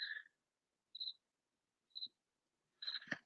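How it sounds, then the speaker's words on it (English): Crickets chirp in the background, four short high-pitched bursts spaced about a second apart, faint and isolated against near silence, the last one overlapped by a soft thump. "Oh, you can hear the crickets in the background."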